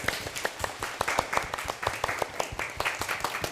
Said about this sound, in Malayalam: വെടിക്കട്ട് ക്ലാപ്പ് ഗോ